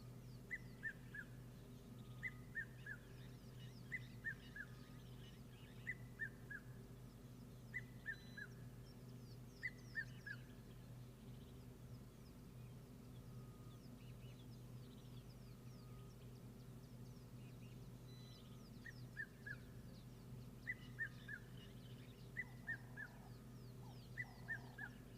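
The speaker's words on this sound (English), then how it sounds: "So cool listening to the migratory birds come through, and really such an iconic sound for this time of year" Migratory birds call in autumn, their paired high yelps returning in loose, repeated bursts from a distance, faint over a low, steady hum of background noise.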